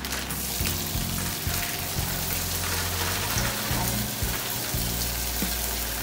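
Noodles for bami goreng, Indonesian stir-fried noodles, hit a hot pan and fry with a loud, steady sizzle and crackle, close and continuous with low kitchen rumble beneath.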